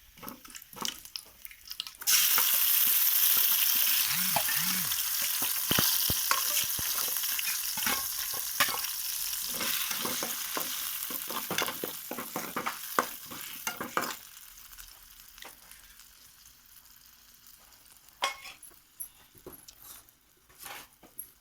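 Garlic, curry leaves and tomato pieces fry loudly in hot oil for a sauce, a steady close sizzle with repeated stirring scrapes, starting abruptly and fading toward the end.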